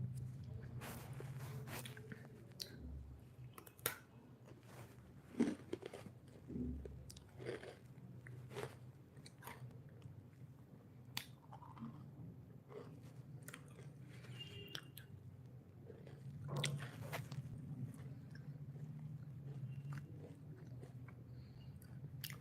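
A biscuit is chewed and eaten close to the mic, giving quiet, repeated crunching bites and chewing at a steady pace, with a faint voice now and then.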